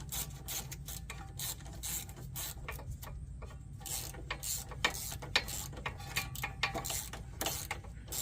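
A hand ratchet with a 10 mm socket tightens nuts on splined bolts on a van, giving quiet, rapid clicking bursts that come in repeated short runs close by.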